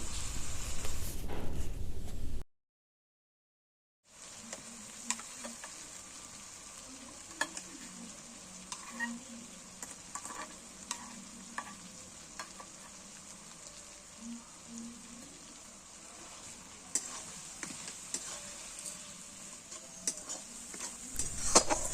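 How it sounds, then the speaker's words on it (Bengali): Tomatoes cooked down with spices for a fish curry sizzle softly in the pan, with scattered scrapes and clinks of a stirring spoon, faint and close, after a brief silent gap. "মশলা সমেত টমেটোগুলো কত সুন্দর করে কষানো হয়েছে"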